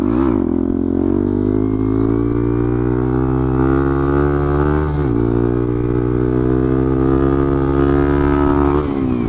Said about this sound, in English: Let's go this way and do a little wheelie